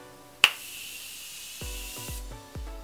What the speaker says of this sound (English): hold bottle 8 to 10 inches away from face, close eyes, and mist over makeup